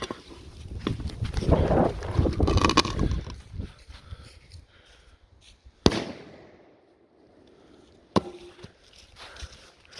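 Thundercrackling firecrackers burst in a rapid crackling flurry, followed by two sharp, loud single bangs with quieter gaps between, outdoors and nearby.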